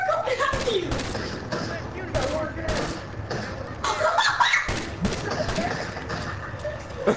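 Gunfire fills a match of The Last of Us Factions multiplayer, with repeated sharp shots in clusters over continuous game noise and excited voices talking throughout, loud and close.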